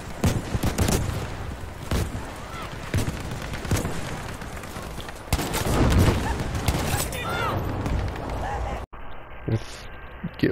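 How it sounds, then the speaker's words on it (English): A Scorpion shotgun fires in Battlefield V: sharp blasts come repeatedly amid a busy battlefield din of other gunfire and rumbling explosions, loud and close. "Scorpion shotgun"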